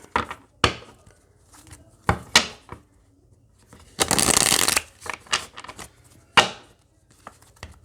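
Tarot cards shuffled close by, with a series of short crisp riffles and slaps and one longer rushing shuffle in the middle, heard alone in a quiet room.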